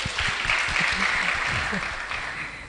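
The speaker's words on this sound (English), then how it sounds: "we can give him a hand of applause" An audience at a women-in-cybersecurity session in Lilongwe, Malawi, claps together in dense, sustained applause that fades slightly toward the end, with some low murmuring beneath.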